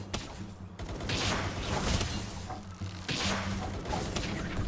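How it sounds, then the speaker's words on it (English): Rapid bursts of gunfire in the video game Palworld crackle and crash in a dense, continuous barrage, loud and close, with brief lulls between volleys and no voices. "that gunfire is making me pause"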